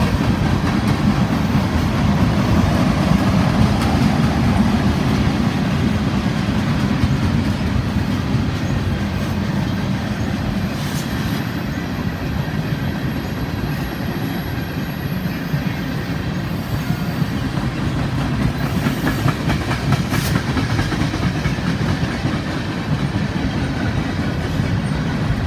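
A long freight train with auto rack cars rumbles steadily past close by, wheels clacking and occasionally squealing, with no pause over its whole length.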